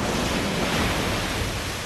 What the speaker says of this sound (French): Des vagues de 8 mètres déferlent sur la côte du Golfe